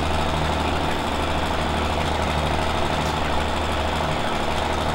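A tractor engine from the video game Farming Simulator 17 drones steadily and loudly throughout, a continuous low rumbling idle with a dense, unbroken mechanical hum.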